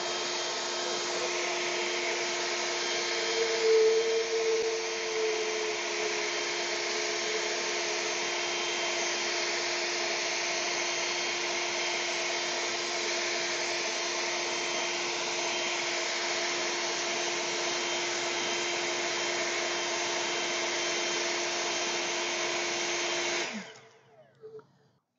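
An EGO 765 CFM cordless leaf blower runs on turbo, blasting gravel with a steady loud roaring whoosh that holds for over twenty seconds before cutting off and winding down near the end.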